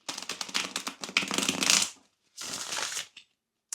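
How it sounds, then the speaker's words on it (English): Tarot cards are shuffled close to the microphone in quick riffling bursts. The rustling stops briefly, starts again in a second flurry and ends with a soft tap. "I always get a little scared shuffling on camera"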